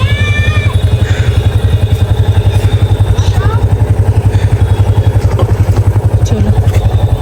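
A motorcycle engine drones steadily with a fast, even pulsing thrum while riding, loud and close throughout, with faint voices beneath.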